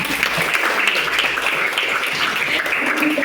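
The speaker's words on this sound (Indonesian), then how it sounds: "Tepuk tangan dulu untuk teman." Steady applause from a classroom of children clapping for a classmate, dense and continuous throughout at moderate loudness.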